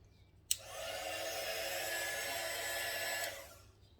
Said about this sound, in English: I have got actually the hairdryer there